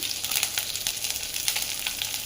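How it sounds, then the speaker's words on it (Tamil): Mustard seeds and curry leaves sizzle in hot oil for a Kerala-style prawn curry, a steady close frying hiss dotted with sharp crackling pops as the seeds splutter. "கடுகு நல்லா பொரிஞ்சு வரணும். இப்போது நீங்கள் கருவேப்பிலை ஆட் பண்ணிங்கன்னா நல்லா வாசமாக இருக்கும்"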